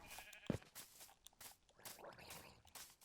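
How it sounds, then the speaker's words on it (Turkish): Sheep bleat in the Minecraft survival game, one short close bleat near the start followed by scattered quieter game noises, faint overall and without talk. "Derken koyunlar."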